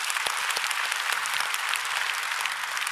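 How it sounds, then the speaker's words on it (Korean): A church congregation breaks into loud, dense applause, many hands clapping together in a steady, roomy wash with a few sharp nearby claps standing out. "박수 좀 한번 쳐주고 싶습니다."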